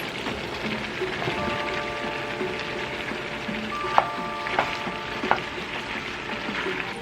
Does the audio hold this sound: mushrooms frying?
yes